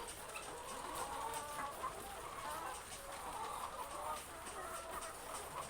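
A steady chorus of laying hens clucking together in a small coop, a continuous soft murmur of many birds.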